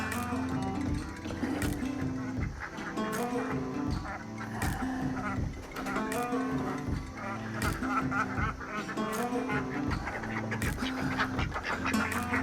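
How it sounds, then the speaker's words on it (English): Several ducks on a homestead quack continuously in a lively chorus nearby, their rhythmic calls overlapping throughout with no pause. "Next thing I always do is go around and let the ducks out."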